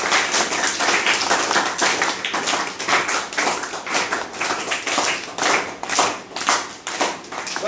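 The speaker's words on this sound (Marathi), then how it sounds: "या आलेल्या पाहुण्यांचं आपण जोरदार टाळ्या वाजवून" An audience at a tribal district council school claps to welcome guests, loud and sustained with the rhythm surging and easing as hands beat together throughout.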